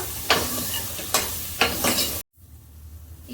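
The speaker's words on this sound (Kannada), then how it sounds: "ಚೆನ್ನಾಗಿ ಫ್ರೈ ಮಾಡೋಣ" Cut okra with powder and salt fries in a pan, with several rhythmic scraping stirs over a continuous sizzle before it cuts off abruptly into quiet background.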